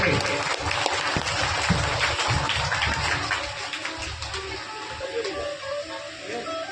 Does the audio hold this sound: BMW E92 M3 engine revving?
no